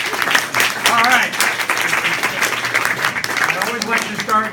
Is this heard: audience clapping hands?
yes